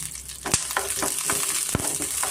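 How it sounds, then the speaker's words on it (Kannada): Green chillies, cumin and garlic fry in oil over medium flame, a loud close crackling sizzle with a few sharp pops and stirring scrapes, no voices. "ಹಸಿಮೆಣ್ಸಿನ್ಕಾಯಿ, ಒಂದು ಸ್ವಲ್ಪ ಜೀರಿಗೆ ಮತ್ತು ಬೆಳ್ಳುಳ್ಳಿನ ಅಷ್ಟು ನಾನು ಎಣ್ಣೆಯನ್ನು ಫ್ರೈ ಮಾಡ್ಕೊತಾ ಇದ್ದೀನಿ"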